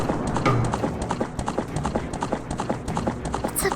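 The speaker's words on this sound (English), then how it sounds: "Stop the horse!" Horse galloping, a rapid, continuous clip-clop of hooves at close range with an even driving rhythm, with voices in the background.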